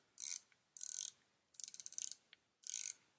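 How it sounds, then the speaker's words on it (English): Ceramic, fully polished bezel on a La Touraine Maritimer diver watch turning in four short bursts of rapid ratcheting clicks, crisp and close, with quiet gaps between. "Bezel action is pretty decent, I must say. Really no backplay."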